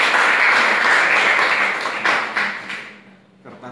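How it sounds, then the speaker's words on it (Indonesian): Audience applause with steady clapping fills a sociology lecture class, holding strong for about two seconds and then thinning out and fading to a few scattered claps. "aplaus buat narasumber satu"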